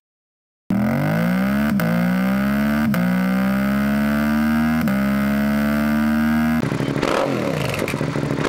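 A Suzuki SV650 motorcycle with an aftermarket exhaust revs loudly and close, the engine note climbing steadily in pitch between several brief throttle blips before a rougher, broken burst near the end.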